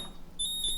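Control panel of a Whirlpool fridge gives a short electronic beep when a touch pad is pressed, a faint high tone that sounds steadily over low room noise.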